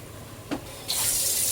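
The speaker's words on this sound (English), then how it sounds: "I'm gonna add some water because I need for it to cook the inside." Water pours steadily from a tap into a chicken and chickpea skillet on medium heat, starting with a brief splash and then settling into a loud, continuous rushing stream.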